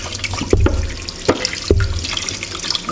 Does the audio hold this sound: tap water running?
yes